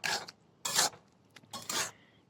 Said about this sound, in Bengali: মটরগুলো দেওয়ার পর এভাবে চামচ দিয়ে একটু নাড়াচাড়া করতে হবে